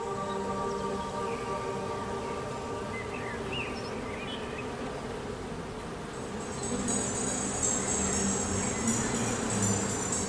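A colony of honeybees buzzes inside a hive in a city setting. The dense, even drone holds throughout and grows slightly louder in the second half.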